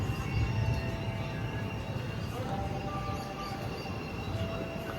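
A train at Aralaguppe railway station in Karnataka, on a route from Shivamogga to Tumkur, gives a steady loud rumble with a continuous low roar and faint higher tones, close by and without pause.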